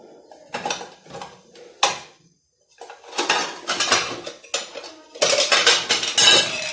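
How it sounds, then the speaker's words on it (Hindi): A metal pot of spearmint tea on high heat being covered with a lid, with clattering and clinking of pot, lid and utensils in bursts, loud and close, separated by a brief quiet gap. "तेज आंच पे ये ढक के रख दिया"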